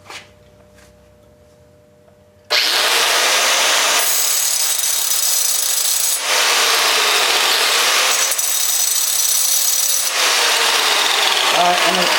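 A power tool cuts through metal while repairing a Reed 105 vise, a loud steady grinding-cutting roar starting abruptly after a quiet moment and running continuously with slight pitch shifts.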